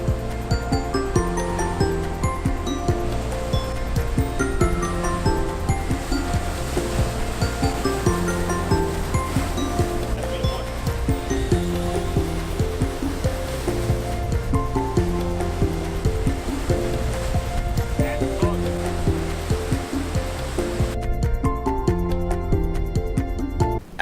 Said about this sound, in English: Absolutely stunning just seeing the power of the waves over there.